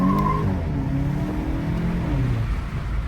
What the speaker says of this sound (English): judging how it sounds, would you get a downpipe on your Golf 8 GTI?